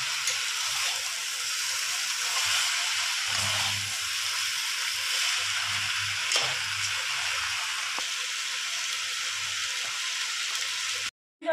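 Fried potato, pointed gourd and soy chunks sautéing together in a curry pan, a steady close sizzle and hiss with occasional stirring scrapes, no voices.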